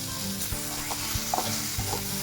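Chili powder, turmeric, salt and coriander powder fry in hot oil for dal kanda, a dense continuous sizzle up close with soft repeated spoon scrapes and taps as the spices are stirred, with no voices.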